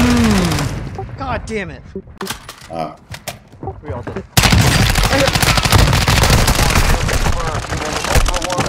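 Close, loud gunfire in Call of Duty DMZ: scattered single shots and short bursts amid in-game effects and swearing, then a sudden sustained roar of rapid automatic fire that carries on to the end.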